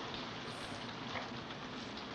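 Steady rain from the 1954 film Rear Window, a dense, even hiss that stays loud and unbroken for the whole stretch with no voices over it.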